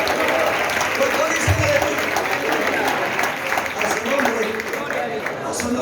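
A church congregation claps loudly in praise, a dense continuous wash of many hands at close range, with voices and shouts mixed into the applause.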